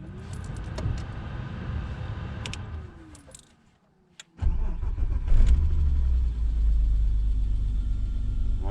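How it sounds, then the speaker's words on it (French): A BMW 525i E34 engine cranks and catches after a brief silence, then settles into a steady, loud, close idle rumble with a faint initial rev, following some earlier engine noise. "On le démarre, c'est bien."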